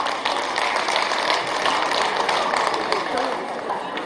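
Applause at a girls' high school alumni association general meeting, a steady wash of many hands clapping throughout with a voice speaking over it.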